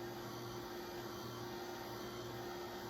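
A hair dryer runs steadily at close range, drying paint on a stenciled paver, a continuous even whoosh with a faint motor hum beneath.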